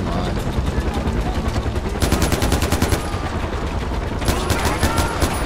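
Rapid bursts of semi-automatic gunfire from a Far Cry 4 firefight crackle loudly throughout, two denser volleys standing out against a constant barrage of battle noise.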